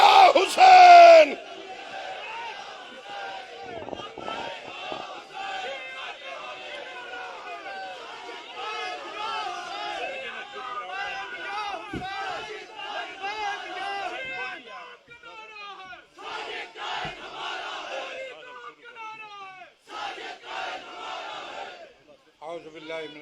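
A conference crowd of Shia clerics and reciters in Islamabad roars the slogan Labbaik Ya Hussain in one loud burst at the start, then someone speaks over an amplified system while scattered crowd shouts rise and fall.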